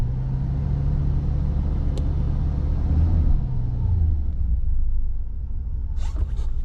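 A Mercedes 500SL with the M119 V8 idles low and steady at around 600 RPM, giving a smooth, even rumble that holds close and constant, with a brief click near the end.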